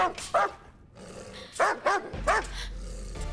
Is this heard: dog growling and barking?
yes